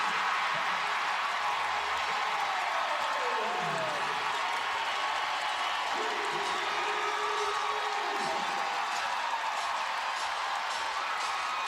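A basketball arena crowd at a WNBA elimination playoff game between the Chicago Sky and Las Vegas Aces roars and cheers steadily throughout, a loud, continuous wash of voices and clapping with an announcer's voice underneath.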